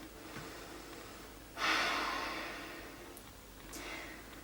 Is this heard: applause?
no